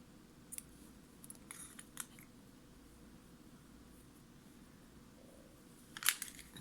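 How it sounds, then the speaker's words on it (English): Scissors snipping crochet yarn while making buttons, a few faint, quiet cuts scattered over low room hiss, with a louder snip near the end. "I'll cut this one longer because I will need it to sew the button."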